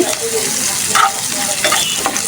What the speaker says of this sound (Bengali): শাক ভাজির জন্য কাঁচামরিচ পেঁয়াজ এবং চিংড়ি আর রসুন দিয়ে ভেজে নিচ্ছি